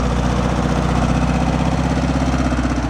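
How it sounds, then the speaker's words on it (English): A 1966 VW Beetle engine runs at idle on old fuel, a loud, close, steady air-cooled chug with a fast even pulse and a faint knocking vibration throughout. "It's running whatever crap gas is in it."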